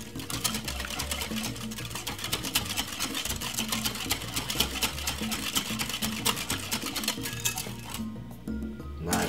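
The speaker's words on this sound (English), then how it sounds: "Give it a whisk." A sauce of dark browning and honey whisked in a bowl for a BBQ pork oven bake, giving rapid, steady clicking and tapping strokes close by that stop abruptly near the end, with no talk.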